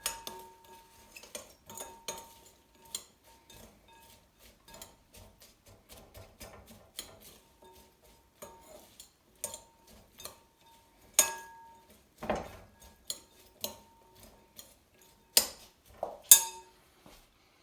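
Lentil pakora batter with coriander being stirred in a bowl, with sparse clinks and taps of a utensil against the dish, quiet at first and then sharper, more frequent knocks toward the end.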